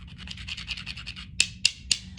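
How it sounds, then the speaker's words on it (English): Two hard grey rocks grind against each other in a quick series of rough scraping strokes, then several sharper, louder clacks as the stones strike or drag, close and with no talking. "I'm going to rub those rocks together and see what happens."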